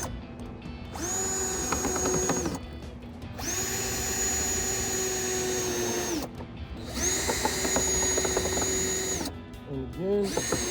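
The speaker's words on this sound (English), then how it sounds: "the next step is to go ahead and start putting the screws in" A power drill drives screws into a front bumper lip splitter on a 2015-2023 Dodge Charger, three long whining bursts and a short final spurt, each ramping up and then cutting off, with brief pauses between them.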